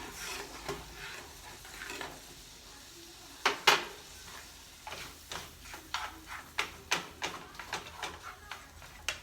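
Seasonings and vegan cheese stirred into milk in a pot for vegan mac and cheese, a spoon scraping and clinking in a steady rhythm of short strokes, close and fairly quiet.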